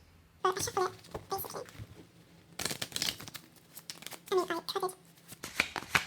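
Reading cards are shuffled in several short bursts of riffling and slapping, close and crisp, with pauses between. A voice speaks softly under and between the shuffles.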